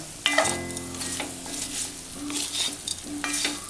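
A spoon stirs gooseberry pickle with chili powder in a pan, with scraping strokes and soft sizzling, close and moderately loud over faint background music.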